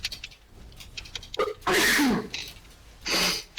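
A single sharp human sneeze lands close and loud, followed shortly by a softer breathy burst.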